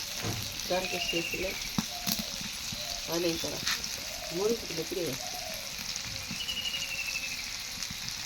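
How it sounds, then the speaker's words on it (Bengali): Fish frying in hot oil makes a continuous, crackling sizzle that runs through the whole stretch, with people talking over it nearby. "নানি মাছ ভাজি করতেছে"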